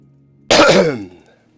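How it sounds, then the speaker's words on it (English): One harsh, close cough erupts from silence and fades over about half a second, loud and alone with no talking. "it seems I still just cannot shake this cough"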